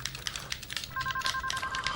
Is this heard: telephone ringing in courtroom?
yes